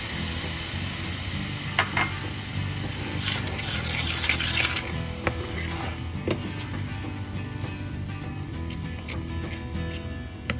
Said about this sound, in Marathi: आता ह्याच्यामध्ये आपण जे टोमॅटोची प्युरी करून घेतली होती ती घालून घ्यायची.